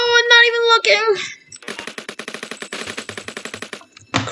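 Rapid automatic gunfire in the Roblox game Jailbreak, a steady burst of evenly spaced shots running for a couple of seconds after a brief spoken voice, ending with one more loud shot.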